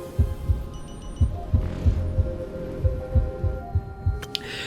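Slow, steady heartbeat in the game Honkai Star Rail, deep paired thumps repeating at an even pace over a low sustained hum and faint tonal music, close and prominent with no voices.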